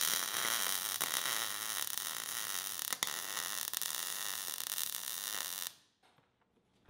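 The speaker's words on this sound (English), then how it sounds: "I could put a stronger weld on each bushing" Arc welding of bushings onto a safe's steel linkage, a steady loud crackling buzz for several seconds before it cuts off abruptly into near silence.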